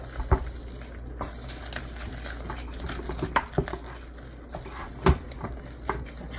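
Spoon stirring shredded cheddar cheese into chicken and rice in a crockpot, giving soft wet squelching and scraping with a few louder clunks against the pot, close and fairly quiet.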